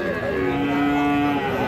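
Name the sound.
bull calf mooing at a cattle market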